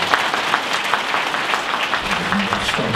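An audience at a Catholic evening service honoring a religious sisters' congregation's 50th founding anniversary breaks into applause, a steady wash of many hands clapping throughout.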